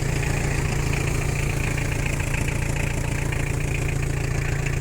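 A small Kubota GT5 diesel tractor engine idles steadily nearby, a constant low throbbing chug with no variation and no voices.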